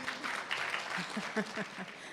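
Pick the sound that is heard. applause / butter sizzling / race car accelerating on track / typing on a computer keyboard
applause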